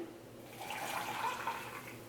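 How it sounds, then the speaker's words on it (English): Hot water poured into a tea shaker for a rooibos blueberry iced latte, a soft, steady trickling splash that swells midway and stays fairly quiet. "I'm going to fill right under that DAVIDStea logo with my hot water."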